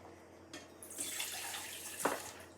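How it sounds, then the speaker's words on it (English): Warm water pours into a cool metal bowl in a kitchen while making artisan bread, a steady hissing splash that builds after a brief start and ends with a quick splash. "So dump that water in that bowl, Isaiah."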